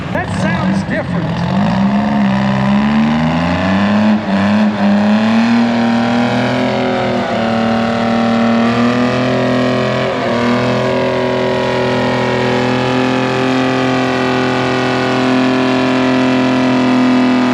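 Minneapolis Moline G1355 tractor pulling at a county fair tractor pull, its engine roaring loud and close with a rising, straining pitch that levels into a steady heavy drone, crowd and voices faintly under it.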